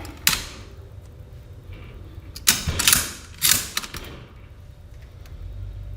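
A polished Mosin Nagant rifle bolt is worked by hand, giving a few close metallic clacks and sliding rasps in two or three quick strokes, then quiet.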